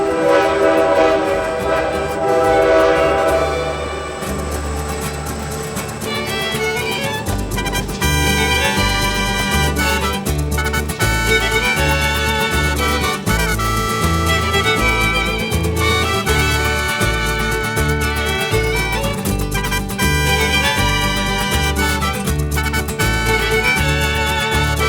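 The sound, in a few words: diesel train engine and wheels clicking in tunnel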